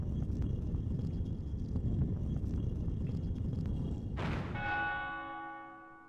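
A church bell in the video game Ys: The Oath in Felghana strikes once, loud and close, and its long ringing tone fades slowly after a stretch of windy, rumbling ambience.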